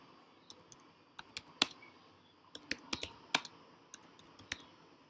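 Typing on a computer keyboard, with irregular bursts of sharp, close key clicks separated by short pauses, no voices.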